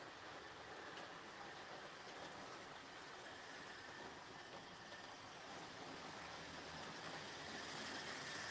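Model train running steadily around a layout at a live running session, a continuous even rumble of wheels on track with no pauses, moderately loud and alone without any voices.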